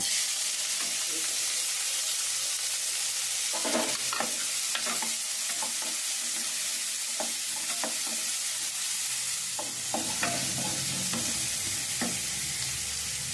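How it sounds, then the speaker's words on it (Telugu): Green chillies and onions frying in a pan, a dense, constant sizzle with repeated spatula stirs and scrapes clustered in bursts, close and steady throughout without speech. "పచ్చిమిరకాయలు వేసి ఒక నిమిషం వేగనిద్దామండి వేగాక ఉల్లిపాయ కూడా వేద్దాం"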